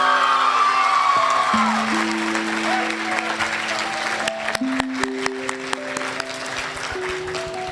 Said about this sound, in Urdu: ایک بار اپنے شہر کے لیے تالی بجائیں